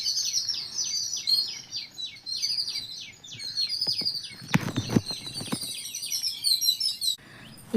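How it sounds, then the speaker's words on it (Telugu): Birds chirping in a garden: rapid, repeated high tweets carry on for several seconds nearby, with a burst of clattering noise in the middle before the calls resume. "పక్షుల సౌండ్ భలే ఉంది కిలకిలమంటూ."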